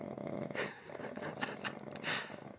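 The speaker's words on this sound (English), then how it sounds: "Zoro won't stop snoring, man." Zoro the dog snores close by in repeated rasping breaths about every half second, soft and throaty, with no one speaking over it.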